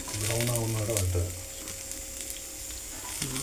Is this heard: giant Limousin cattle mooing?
no